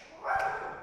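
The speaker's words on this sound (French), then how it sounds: "désolé, on a le chien qui nous défend aussi." A single short dog bark from a household dog, brief and moderately loud, heard alone without talk.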